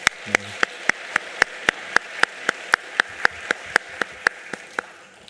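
A church congregation claps in a steady, evenly spaced rhythm, each sharp clap ringing out clearly at a moderate volume for several seconds with no talking.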